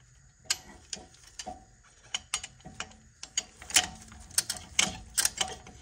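Brake caliper piston compressor tool being spun by hand on a 2022 Audi RS3, producing a rapid irregular series of close, sharp ratcheting clicks and ticks.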